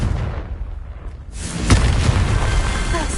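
A Confringo blasting curse from a video game detonates after a brief quieter lull, a deep booming explosion that lingers as a rumbling roar.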